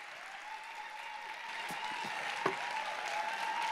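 Audience applause filling a lecture hall at a university talk, a steady wash of clapping held at an even level for several seconds, with a sharper clap standing out near the middle.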